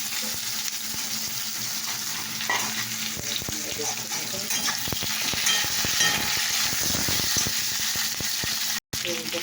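Potatoes with five-spice sizzle and crackle steadily in a hot kadai, with stirring clatter and a brief spoken aside over the frying.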